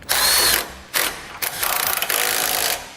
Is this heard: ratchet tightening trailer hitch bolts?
yes